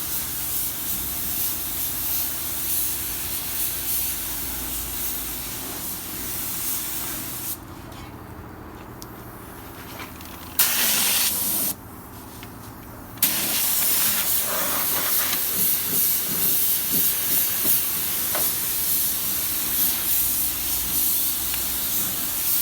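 Spray paint hisses steadily across a truck engine bay, close and continuous, with a few short pauses between passes before the hissing resumes.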